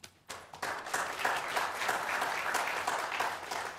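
An audience at a church Christmas creche lighting program breaks into warm applause, many hands clapping in a dense, steady patter after a brief quiet start.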